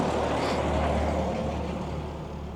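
A loud car roars past outside on the street, a steady heavy engine rumble that swells and fades slightly over a couple of seconds.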